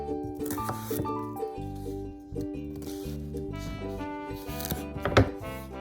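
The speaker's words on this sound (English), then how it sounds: "Cut the carrots lengthwise into quarters." Knife cutting carrots lengthwise into quarters on a board, a series of close, crisp chopping knocks and scraping cuts in an uneven rhythm, with light clinks and a louder cut near the end.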